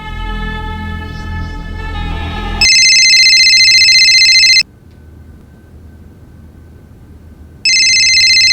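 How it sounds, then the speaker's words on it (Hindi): An electronic phone ringtone rings loudly in two long bursts separated by a short silence, after a brief stretch of musical tones. "फोन उठाओ योगेश"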